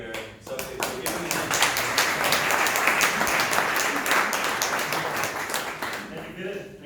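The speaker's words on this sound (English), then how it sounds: "Thank you for the warm applause" Steady applause from a TEDx event audience in Frederiksberg, many hands clapping together at an even level for several seconds before tapering off.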